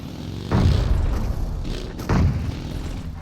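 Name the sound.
explosion in a video game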